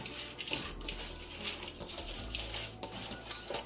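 Shrimp seasoned with Creole seasoning are stirred in a bowl: quiet, close scraping and soft clinks of a utensil repeat in an uneven rhythm with no talking.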